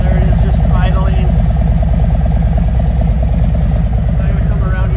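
A 2022 Harley-Davidson Street Special 114 with Screamin' Eagle pipes idles close by, a loud, steady, deep loping rumble that holds evenly throughout, with a voice briefly speaking over it.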